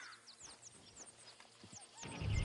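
In Red Dead Redemption 2, horse hooves clip-clop softly and a horse neighs amid faint chirping wildlife, ending in a louder, rougher burst of noise.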